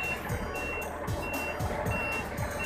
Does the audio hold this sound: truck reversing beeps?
yes